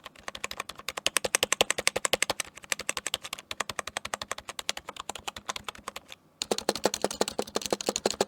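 Rapid, steady typing on a membrane keyboard, close and fairly quiet, with a brief pause around six seconds before the keystrokes resume slightly louder; no talking.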